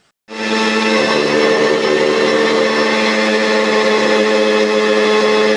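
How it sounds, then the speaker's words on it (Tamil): An electric mixer grinder whirs loudly and steadily as it grinds face pack ingredients in its jar, starting abruptly after a moment of silence and holding a constant high-pitched motor drone. "இப்போது இதை நம்ம மிக்சி ஜாரில் போட்டு முதல்ல நல்லா அரைக்கலாம் வாங்க"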